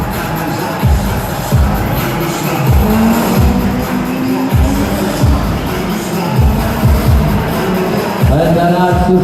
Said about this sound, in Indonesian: Kendaraan Suzuki Baleno yang digunakan adalah nomor 94